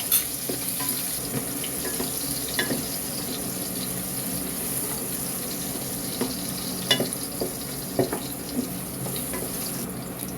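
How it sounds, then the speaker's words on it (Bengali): Crushed garlic fries with panch phoron and dry chilies in hot oil, a continuous close sizzle with occasional sharper pops and clinks. "এখন আমি ঢেলে দিব পরিমাণ মতন ক্রাশ গার্লিক।"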